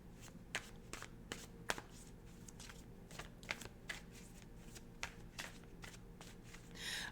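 Tarot cards being shuffled by hand, giving a run of crisp riffling snaps and soft slides at an uneven rhythm, close and fairly quiet with no talking.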